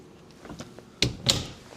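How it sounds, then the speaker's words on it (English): A small cabin door on a Scout 215 Dorado boat is swung shut, giving a couple of short, close knocks and latching clicks against quiet background. "Do have a door that closes"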